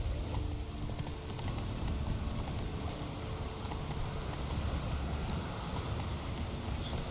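Horse hooves clip-clop steadily on the ground in The Witcher 3: Wild Hunt, a continuous, faint, rhythmic trotting under a low rumble of wind and rain-like ambience.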